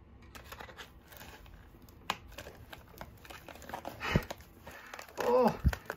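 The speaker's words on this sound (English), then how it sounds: "you sure are struggling with using scissors" Crinkling and snipping of plastic packaging being cut, a few short crisp clicks and rustles, close by, with some quiet background noise.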